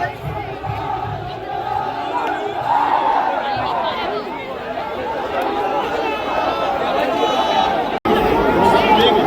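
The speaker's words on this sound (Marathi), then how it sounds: "तुम्ही आता बघू शकता केवढा जल्लोष आहे बघा" A dense crowd at the Holta Hom festival in Savarde, Chiplun, where burning logs are thrown between groups, shouts and cheers. The loud, sustained roar of many voices includes excited cries and chatter.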